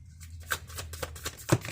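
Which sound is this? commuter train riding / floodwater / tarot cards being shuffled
tarot cards being shuffled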